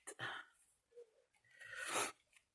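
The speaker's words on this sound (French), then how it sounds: "je vais encore éternuer." A few soft breaths and sniffs build up to a single sharp sneeze near the end, close and fairly quiet overall.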